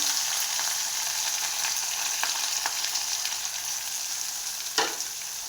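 Green chillies and chopped onion fry in a pan for upma, a steady bright sizzle running throughout with a few sharp crackles and a louder spit near the end, no voices.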